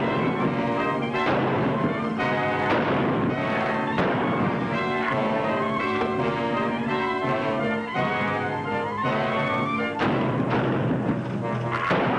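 Gunfire in a Western gun duel: a series of heavy booming shots, roughly a dozen spread unevenly, loud and close, set over a continuous dramatic orchestral music bed with no speech.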